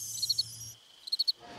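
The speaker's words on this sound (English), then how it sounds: "You can hear the crickets." Crickets chirp in two short sets of quick, evenly spaced pulses separated by a brief hush, faint and thin against otherwise quiet surroundings.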